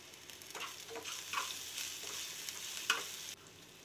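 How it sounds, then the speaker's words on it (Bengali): Onions and mustard seeds fry in hot oil for a masala dosa filling, a steady close sizzle broken by several soft scraping stirs. "সর্ষেটা চটপট করতে লাগলে তার মধ্যে কেটে রাখা পেঁয়াজগুলো দিয়ে সুন্দরভাবে নেড়ে চেড়ে ভেজে নেব"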